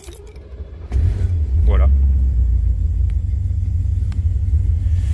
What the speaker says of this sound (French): Je vais démarrer sans toucher la pédale d'accélérateur.